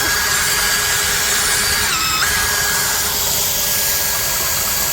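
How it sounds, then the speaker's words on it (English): A power drill whirs steadily at close range, driving a ceiling pulley to raise chicken feed lines, its motor pitch dipping briefly midway before recovering, with a constant mechanical hum underneath. "I am using a drill"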